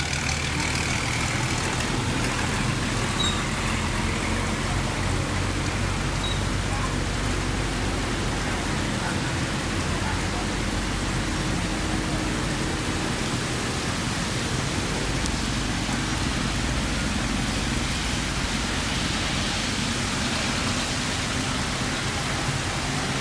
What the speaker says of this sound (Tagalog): Tangina, ang lakas ng ulan na to.